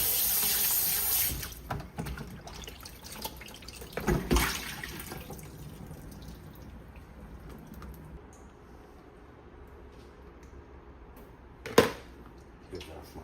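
Running tap water rinsing fish splashes steadily at first, then fades to a quieter trickle with a few clattering bumps and a sharp knock near the end.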